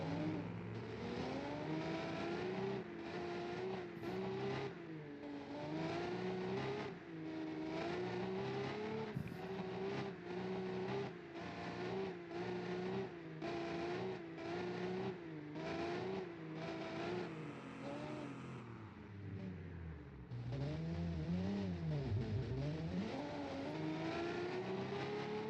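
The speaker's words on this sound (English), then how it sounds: "BMW's coming up behind, I can hear it" Racing engines in a BeamNG.drive simulation of a 1980 race roar continuously, revving up and down through gear changes as a BMW closes in from behind and passes, with no talking.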